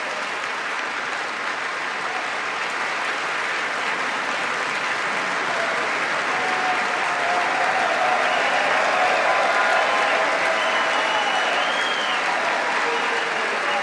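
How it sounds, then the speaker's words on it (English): Sustained applause from a crowd in Congress, a dense, steady wash of clapping that swells slightly toward the middle and carries on for the whole stretch without pause. "Now listen to what happens with the crowd in Congress."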